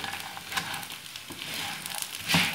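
Edible gum (gond) fries in ghee, about 200 grams of each, with a steady close sizzle and crackle that swells briefly near the end as the pieces are stirred.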